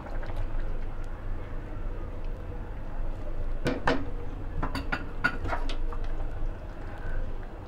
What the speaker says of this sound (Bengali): দেওয়ার পরে আমি এখন একটা নাড়া দিব